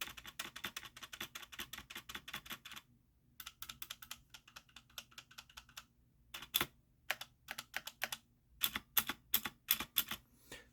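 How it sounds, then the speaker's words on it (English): Quick runs of clacky key presses on a Motospeed CK62 mechanical gaming keyboard with red switches, the spacebar among them, in bursts split by short pauses, close and crisp, the last strikes loudest. "this spacebar usually is very noisy, and here I can show you an example so you can hear this one"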